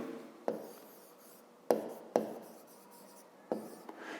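Pen or pencil writing out a fifth-grade math solution by hand on paper, with soft scratching strokes and a few sharper taps as the pen lands, close and quiet, with no talk.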